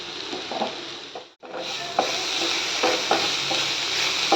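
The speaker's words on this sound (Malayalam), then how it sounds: "കുറച്ച് നേരം മൂപ്പിച്ചെടുക്കും. വേവിച്ചെടുക്കാം. നല്ലോണം മൂക്കണം." Sliced onions fry in hot oil, a steady crackling sizzle broken by short scraping stirs of a spoon in the pan, with one brief dip to near silence before the sizzle returns just as loud.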